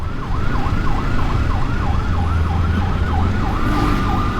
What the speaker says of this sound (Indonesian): Wah, sepertinya ada ambulan nih.